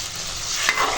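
Biuli dal (split lentils) goes into a hot pot and is stirred, giving a steady close sizzle with soft scraping strokes, and a couple of brighter clinks near the end.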